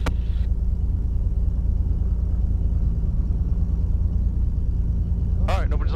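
An experimental light aircraft engine runs steadily on a runway before takeoff, a constant close rumble with brief radio or cockpit speech at the very start and end.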